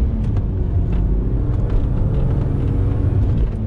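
A 25-year-old BMW E36 car runs with a loud, steady low engine rumble and a constant droning hum that does not let up.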